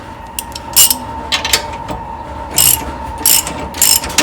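Several short bursts of a hand ratchet clicking as it backs a bolt off a Blue Ox baseplate being installed on a 2002 Chevrolet Silverado, close and crisp over a quiet background.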